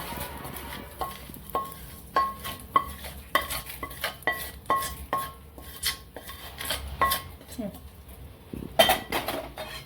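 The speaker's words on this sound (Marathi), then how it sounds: "आणि आता आपण हे ताटामध्ये काढून घेऊ" Cooked food is scraped from a pan onto a plate in a home kitchen while preparing a Maharashtrian festive meal, with repeated metallic clinks and scrapes of a spoon against cookware in an uneven rhythm.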